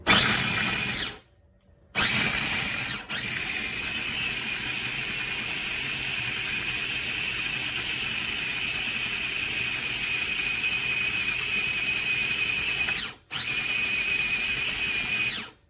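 A kitchen food processor or blender grinds hummus ingredients in a loud, steady whirring drone, stopping briefly twice near the start and once near the end before starting up again.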